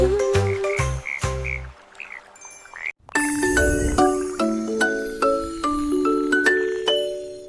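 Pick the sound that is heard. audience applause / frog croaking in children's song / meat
frog croaking in children's song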